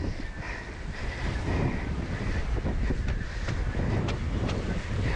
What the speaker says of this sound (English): This part of the run has the biggest swells. Woo! And the strongest wind.